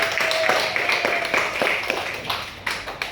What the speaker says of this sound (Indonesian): mari kita beri tepuk tangan untuk kelompok magnet